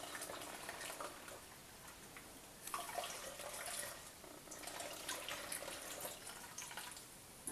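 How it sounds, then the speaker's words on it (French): Water pours steadily into a spray bottle while making a cleaning product, a soft continuous splashing and trickling stream, fairly close and fairly quiet, with no voices. "je peux rajouter un petit peu d'eau"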